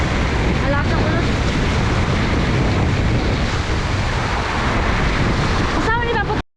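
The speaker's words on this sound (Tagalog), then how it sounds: "Binaba na rin ni Papa kasi ang lakas ng hangin." Strong typhoon wind roars and gusts continuously over a rough sea, with broadband rushing noise and buffeting against the microphone throughout, and a brief whistling tone near the end.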